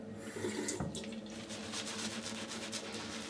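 Water runs steadily from a tap into a sink while shaving soap is being lathered, a close, even rushing stream with slight splashing, heard alone without speech.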